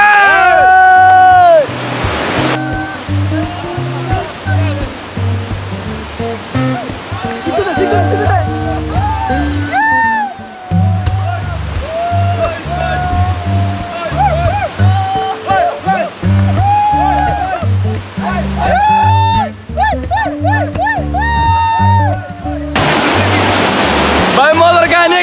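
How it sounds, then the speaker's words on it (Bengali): Ruposhi Jhorna waterfall, in a swollen flow, roars loudly and continuously, with people talking and calling out over the rushing water throughout. "ঝর্ণার আওয়াজটা বাড়ি গেছে, পানিতে জোর আসতেছে"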